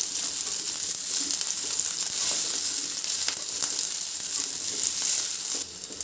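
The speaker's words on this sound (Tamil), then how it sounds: "வெங்காயம் இஞ்சி வெள்ளப்புடி எல்லாத்தையுமே நல்லா வதக்கிக்கலாம்." Shallots, garlic and ginger fry in a pan with a steady, close sizzle that holds throughout, with light stirring noises now and then.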